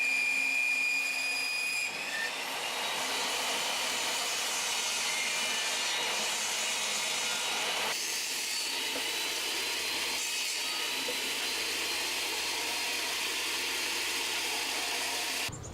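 Wooden slats are fed one after another through a power saw, producing a loud, continuous whining roar with slight shifts in pitch as each cut proceeds, and no voice is heard.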